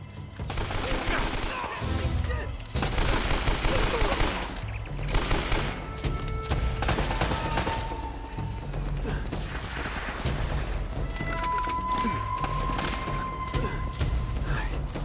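Sustained gunfire rattles through a firefight in Uncharted: Drake's Fortune, a dense run of rapid shots and impacts lasting the whole stretch. Game voices and a speaking player sit underneath, with a few tonal beeps cutting in.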